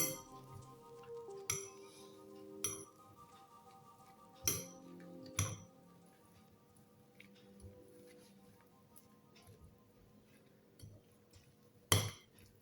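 Ingredients get mixed in a bowl for a breakfast dish, with scattered clinks and taps of a spoon against the bowl separated by quiet pauses, fairly faint and close.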